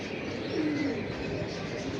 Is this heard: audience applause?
no